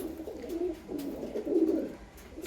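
Soft, repeated throaty cooing from giribaz high-flying pigeons, close up, swelling in two longer bursts over light background rustling.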